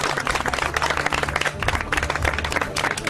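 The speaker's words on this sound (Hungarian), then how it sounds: "Nagy tapsot!" An audience gives lively applause at a sound-therapy meditation presentation, many hands clapping steadily and densely for a few seconds.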